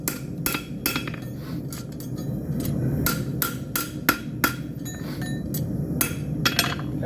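A farrier hammers a horseshoe on an anvil while fitting an ELPO CerClip 2 shoe. Sharp metallic strikes ring out in an irregular series of about a dozen blows, close and loud, over a low background rumble.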